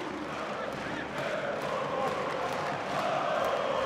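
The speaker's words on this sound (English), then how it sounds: "And the crowd in full song here in the Bilgradska Arena in Belgrade" An arena crowd sings together at a Belgrade handball match between Serbia and Germany, producing a dense, steady roar of massed voices that swells slightly toward the end.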